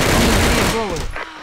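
Dense rapid gunfire from a duel in the CrossFire video game, a loud continuous burst of shots that fades out near the end.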